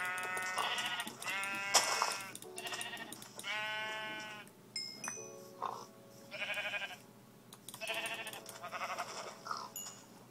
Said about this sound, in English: All right, let's kill these sheep.